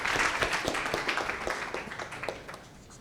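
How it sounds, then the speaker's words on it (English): Audience applause for presenters at an event, a dense patter of many hands clapping that starts fairly loud and gradually thins and fades over a few seconds, with no speech over it. "Give them a round of applause."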